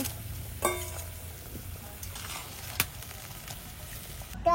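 Shrimp go into a chilli curry in a pan with a soft, steady sizzle, punctuated by a few sharp clinks and taps of a utensil, close and without talk.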